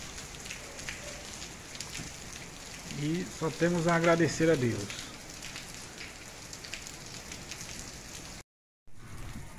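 Heavy rain falls steadily in Limoeiro do Norte, Ceará, during a March storm with strong winds, a dense continuous hiss of drops hitting surfaces; someone speaks over it midway, and the sound briefly cuts out near the end.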